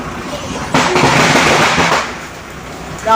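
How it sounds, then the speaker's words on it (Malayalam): Firecrackers burst in a dense crackling volley at a busy road junction in Palathodu, Kerala, during a crowded welcome for a KSRTC village bus on its route to Vengara, loud and close for over a second before fading. "പടക്കൊക്കെ പൊട്ടിച്ചാ സ്വീകരിക്കണേ"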